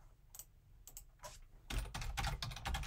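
Computer keyboard typing, a few sparse keystrokes at first, then a faster, denser burst of clicking keys, close and clear with no voices.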